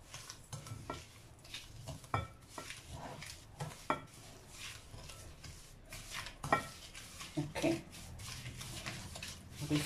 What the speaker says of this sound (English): Then you just mix it through.